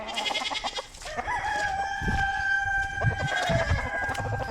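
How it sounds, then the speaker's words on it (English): Rooster crowing at a farm among several roosters, a long drawn-out call with sustained harmonic tones, close and loud, over muffled background clatter and movement without speech. "I got too many roosters."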